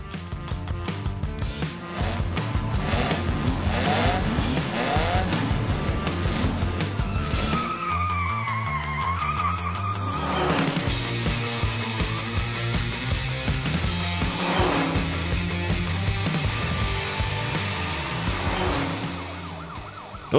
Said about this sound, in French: Nous poursuivons deux voitures de course.